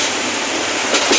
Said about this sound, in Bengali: যদুপুর রেল স্টেশন জংশন থেকে ছেড়ে গেলাম, ময়মনসিংহের উদ্দেশ্যে যাব।